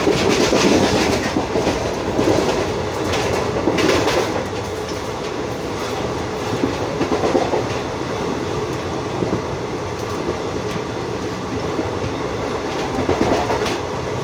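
The Nandigram Express heard from onboard, running along the track with a constant loud rumble and rhythmic clickety-clack of wheels over rail joints, steady for the whole stretch with no talk.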